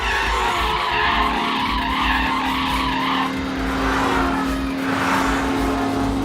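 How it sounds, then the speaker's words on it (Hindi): Motorised scooter chase with skidding, loud sustained engine drone and a long tire squeal rising over rumbling road noise, the roar steady throughout. "चलो स्कूटर से उनका पीछा करते हैं।"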